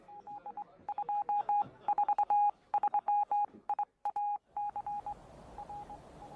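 A landline telephone being dialed in a house, a long run of crisp two-tone keypad beeps in quick irregular bursts, loud and close with no talk.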